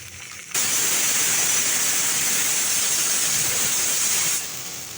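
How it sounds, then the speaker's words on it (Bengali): A pressure cooker cooking dal lets off a loud steamy hissing whistle that starts abruptly, holds steady for about four seconds, then cuts back to quieter kitchen background. "ওই যে পাশে সিটির আওয়াজ তো শুনতেই পাচ্ছেন"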